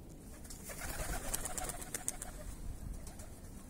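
Tumbler pigeons in Almaty coo softly and murmur nearby, a few brief bright calls standing out over rustling, windy outdoor background with no talk.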